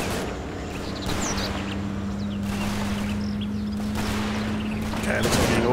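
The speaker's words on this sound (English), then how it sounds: "Rifle grenade, very accurate." Gunfire and a rifle grenade in Combat Mission Fortress Italy: scattered distant rifle shots and bursts crackle over a steady low engine-like drone, with a sharper blast near the end.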